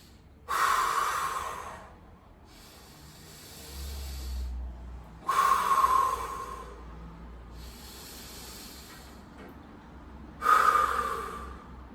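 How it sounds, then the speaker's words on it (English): Three deep, forceful breaths during a side plank hold in a core stability workout, each a strong hissing exhale at regular intervals, close and loud with quiet pauses between. "we'll take 3 deep breaths"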